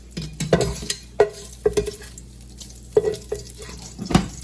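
Andouille sausage pieces dropped into hot oil in a pan for jambalaya, giving a light sizzle under a series of clacking stirs and spoon knocks against the pan, close and without speech.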